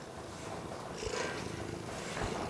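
A contented cat purring close up, a low continuous rumbling throb with a few soft rustles over it, no voices.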